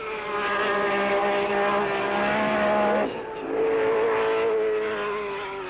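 Late-1960s Formula One race cars at the 1967 German Grand Prix, a loud, sustained engine scream that rises in pitch, breaks off briefly as one car passes, then resumes with another car close by.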